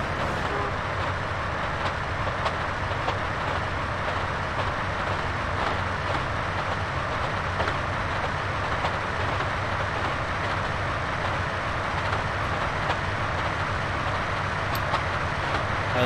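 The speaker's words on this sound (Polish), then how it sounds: "Dawno nie jeździłem tutaj w GTA pociągiem." Train ride in GTA San Andreas: a continuous rumbling roll of wheels on track with faint rhythmic clicks, steady and close for the whole stretch, with no one speaking.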